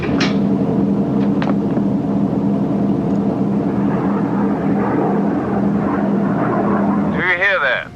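Propeller aircraft approaching a naval patrol boat at sea, a steady loud engine drone under continuous radio chatter and voices on the bridge, with a rising warbling tone near the end.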